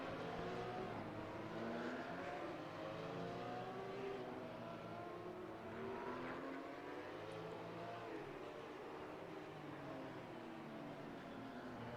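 Porsche Cup race cars in the RaceRoom racing game at Zolder, a pack of engines droning and revving together in a steady, quiet blend of rising and falling tones.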